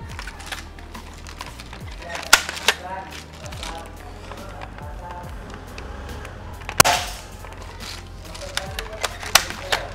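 A Dcobra AR15 M416 toy gun fires at a whiteboard: three sharp, snappy shots spaced a few seconds apart, standing out over someone talking and light handling noise.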